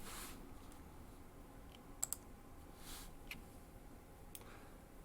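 Quiet computer keyboard typing, a few soft scattered key clicks with a couple of sharper taps, close and faint over a low hum, no talking.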